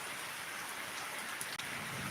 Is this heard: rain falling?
yes